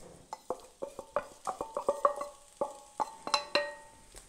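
Chopped onion going into sunflower oil in a frying pan on the stove, giving a run of sharp clicking stirs and scrapes with a light sizzle underneath, close and fairly quiet, with no talking.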